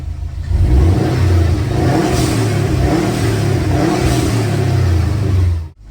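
A Subaru WRX STI turbo engine fitted with a cheap aftermarket blow-off valve revs loudly and repeatedly up close, rising and falling in surges, with a brief hiss at the end as it cuts off.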